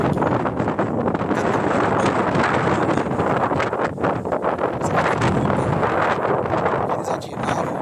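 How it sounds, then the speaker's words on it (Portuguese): Strong wind buffets the microphone at the hilltop ruins of Gamla, a constant loud rumbling roar with gusty fluctuations lasting the whole stretch, with no clear speech over it. "tá ventando bastante"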